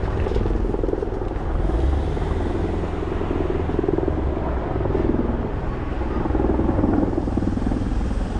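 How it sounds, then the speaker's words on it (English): A navy helicopter's thudding rotor and engine roar, steady and fairly loud, swelling and easing slightly as it passes overhead. "Navy helicopter."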